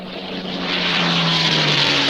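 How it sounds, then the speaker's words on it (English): Propeller airplane drones overhead, a steady loud engine hum that swells slightly as it passes, with no other sounds. "the judges have sent a plane up"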